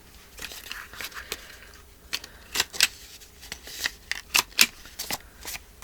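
Paper is trimmed for a junk journal, a series of short, crisp snips and rustles in irregular bursts, close and fairly quiet.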